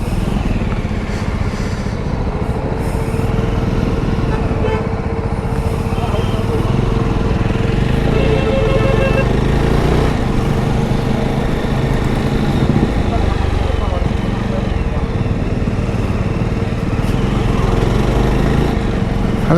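A Jawa 42 Bobber motorcycle engine hums steadily during a test ride, with a constant low rumble and wind noise under someone talking throughout.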